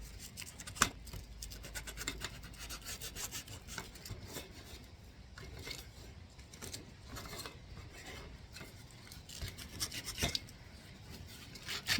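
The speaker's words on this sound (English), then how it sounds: "Mostly just about getting the glitter off. Number 2. I am scrubbing this in pretty hard." Hard scrubbing to remove glitter and paint from a painted banner sign, a rough, rasping rub repeated in quick strokes, close and fairly quiet, with no talking.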